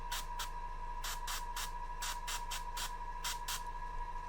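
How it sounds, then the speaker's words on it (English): A Vex airbrush lays down a hard spray of zenithal primer on a painted miniature, heard as about a dozen short, sharp hissing bursts in uneven clusters, near and fairly quiet. "Do a hard spray."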